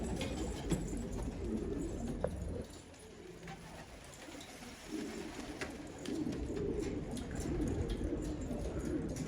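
Purple Istanbul pigeons coo repeatedly in a loft, low murmuring calls overlapping against a busy background of rustling and faint chirps.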